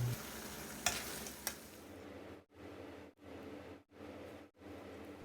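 Thai roasted chili paste with minced pork stir-fries in a pan, a continuous sizzle with a couple of sharp scrapes, then the sizzling settles into pulses broken by brief silences.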